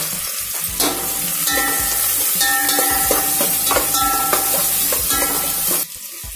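Four large onions, sliced lengthwise, sizzle loudly in hot oil while a spatula stirs them with repeated scraping strokes, close up and continuous before the frying briefly drops away at the end.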